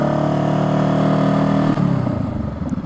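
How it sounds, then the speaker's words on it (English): Motorcycle fitted with a slip-on exhaust revs hard and steadily close by, its throaty engine note holding high before dropping and settling into a lumpy, pulsing idle. "Do you like the way my exhaust sounds?"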